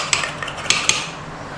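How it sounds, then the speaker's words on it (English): A knife's back trims excess pastry from the rim of a cheese, leek and potato pie, giving three or four sharp close taps and scrapes against the dish over a low background hiss. "With the back of the knife, just trim off some of that excess."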